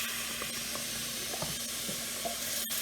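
Water splashes into a pan of egg biryani masala frying in oil, with a steady sizzle and hiss of steam rising close by, no talking.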